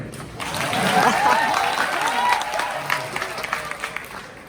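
An audience at a stage event claps together: the applause swells, then thins into scattered claps, with some voices mixed in.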